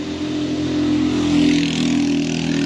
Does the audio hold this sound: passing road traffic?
yes